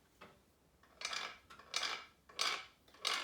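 A stick drawn across a wooden frequency stick with widely spaced slits makes a lower, clicky ratchet-like rasp in five rhythmic strokes, near and moderately loud, with no talking.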